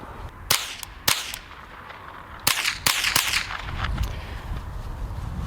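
Several sharp suppressed .22 Short rifle shots fired through a budget Taquito suppressor on an open-top 10/22-style rifle, each a crisp crack, spaced unevenly outdoors over steady background noise.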